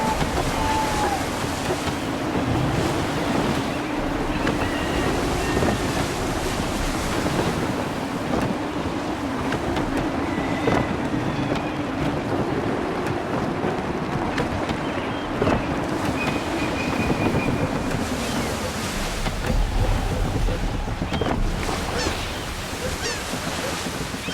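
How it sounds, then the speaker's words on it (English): Gusty wind and ocean waves surge around a sailing ship at sea in the video game Assassin's Creed III. A dense, constant roar of wind and surf continues for the whole stretch. "Gusty winds can be difficult to manage."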